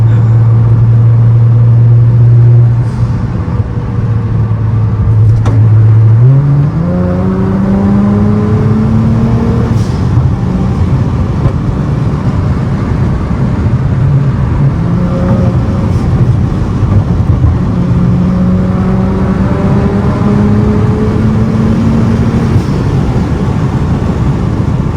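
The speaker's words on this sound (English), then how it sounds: "sound is incredible honestly the exhaust system" A 2012 Nissan GT-R R35 idles with a low burble, then its exhaust rises through several rising revs and falls back, loud and close.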